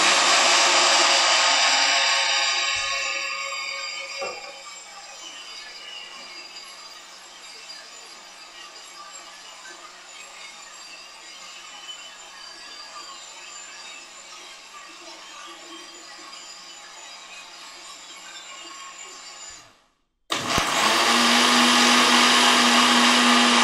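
A powerful countertop blender making juice runs loud and continuous, easing to a steady lower whir before cutting off abruptly, then a brief loud burst restarts near the end; no talk.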